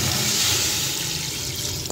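Water pours steadily from a jug into a pot of paya with spices, in a short, continuous rush, close by, easing off slightly toward the end.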